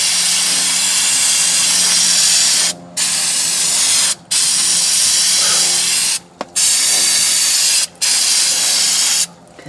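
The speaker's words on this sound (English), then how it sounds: "Brake cleaner, chemical 1001 uses." Aerosol brake cleaner spraying onto the front wheel hub of a 2007 Hyundai Santa Fe, loud close hissing bursts in several long sprays separated by brief pauses.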